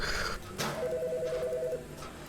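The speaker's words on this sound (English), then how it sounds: "Phone." In a horror autopsy simulator game, an electronic telephone rings in a steady trilling burst, moderately loud over a low ambient drone with a couple of dull knocks around it.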